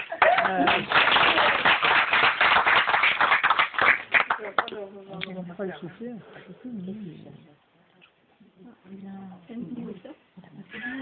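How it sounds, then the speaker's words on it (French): A theatre audience in a small Marseille playhouse bursts into dense, close clapping for several seconds, then the applause thins out and a performer's speaking voice takes over. "Il faut applaudir."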